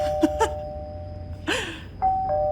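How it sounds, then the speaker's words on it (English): Doorbell rung over and over by a trick-or-treater on Halloween: several sharp ding-dong chimes close by, separated by brief pauses and a short burst of background noise. "continually presses the doorbell like 30 times until the person comes to the door"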